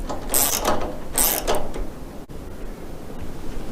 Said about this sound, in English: Tighten them up again with a 5mm Allen key and a 13mm spanner.